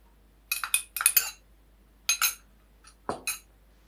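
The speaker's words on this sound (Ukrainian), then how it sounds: "Зараз перемішаю це трішки." A utensil stirs an egg, honey and soda mixture in a bowl, making sharp clinks against the bowl in quick clusters separated by short pauses, close and clear.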